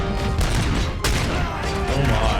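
Rapid bursts of gunfire from RoboCop Rogue City fill the scene, a dense, loud volley of overlapping shots with one sharp crack standing out midway.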